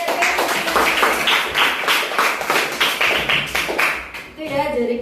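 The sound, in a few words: class applauding a student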